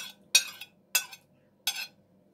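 A spoon stirs garlic-laced strained yogurt and eggplant in a bowl, giving three separate clinking scrapes against the dish, close and fairly quiet, with short silences between them.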